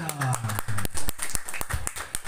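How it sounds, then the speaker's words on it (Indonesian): Scattered clapping from a small audience at a Quran recitation graduation ceremony, a handful of irregular sharp claps close by, mixed with a voice and some tonal chanting underneath. "Tepuk tangan dong."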